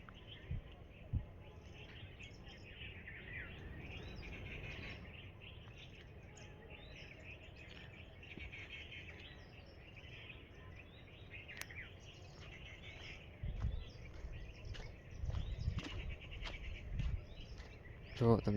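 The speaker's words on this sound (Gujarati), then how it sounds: "તમે પક્ષીઓનો અવાજ સાંભળો." Birds chirp at a park lake in the morning, with faint scattered calls over soft outdoor ambience and a few louder bursts near the end.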